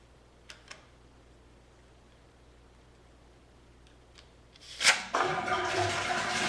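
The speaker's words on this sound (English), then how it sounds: "So now the water is draining." Water drains from a column once its cap is lifted, a quiet faint trickle followed by a sudden rising gush of flowing, splashing water that continues steadily to the end.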